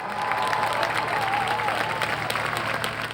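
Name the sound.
audience applause welcoming a singer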